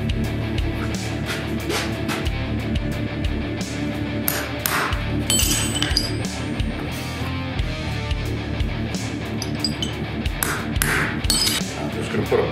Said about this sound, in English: And then I need to punch some holes.